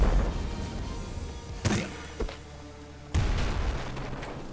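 Several sharp booms and thuds from the video game Nuclear Throne, with a loud blast near the start and another later, over a low rumbling game background.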